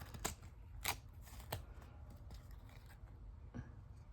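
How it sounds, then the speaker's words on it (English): Scissors cut fabric washi tape for a journal, giving quiet crisp snips at a slow, irregular pace, close and soft, with light paper handling in between. "I'm gonna cut this."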